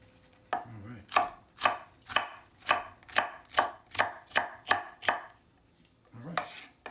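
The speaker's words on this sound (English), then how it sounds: "I usually cut out the little white pieces that is left inside from the pepper" A knife chops through a bell pepper on a cutting board in a steady series of about ten crisp, evenly spaced thuds, close and clear, with a pause before one last cut.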